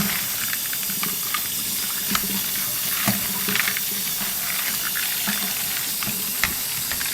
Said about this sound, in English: Just run it through water.